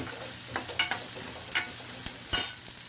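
Fried sandage (lentil dumplings) being stirred in a pan of onion-garlic masala for a spicy curry, with steady sizzling and a few scraping strokes of the spoon, close and alone.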